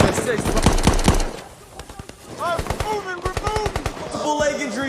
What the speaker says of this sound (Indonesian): Mereka terlihat baku tembak dalam perjalanan menuju ke tempat Al-Pawan berada.